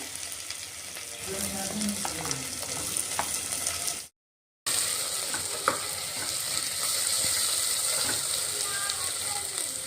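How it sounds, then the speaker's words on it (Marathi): Finely chopped, peeled potato frying in a pan for khichdi: a steady close sizzle with occasional stirring scrapes, broken by a short gap of silence midway, then the sizzle continues just as strongly. "मग आपण टाकतोय बटाटा"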